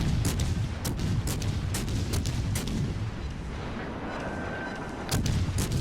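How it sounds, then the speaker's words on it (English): The cruiser USS Atlanta in World of Warships Legends fires rapid volleys of HE shells. Loud booming gunfire rolls on continuously, with sharp repeated cracks over a deep rumbling battle bed. "you can see the fire hose of HE shells"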